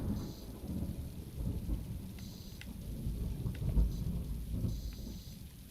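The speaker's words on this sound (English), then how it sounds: "That thunder makes me shut up really quick and in a hurry." Low rumbling thunder rolls through a steady thunderstorm with rain pattering on surfaces, continuous and fairly close, with no voices.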